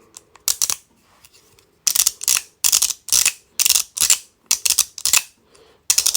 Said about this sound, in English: This is the large mechanical slider.